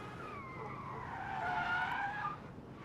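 A car in Life is Strange rolls in reverse with a drawn-out, rising tire squeal and skid over a low engine hum, faint and steady, fading out near the end.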